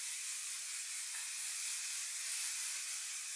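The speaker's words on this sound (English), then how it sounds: "we're just gonna spray the entire hair with this Sebastian Shaper" A steady, airy hiss of Sebastian Shaper hairspray sprayed onto a curled wig, held for a few seconds, close and even, with no voices.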